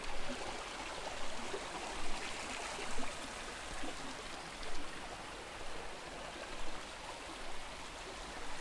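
A waterfall and a flowing stream make a steady, broad rush of water with gentle surging pulses. It sounds fairly distant and continuous, and no one speaks.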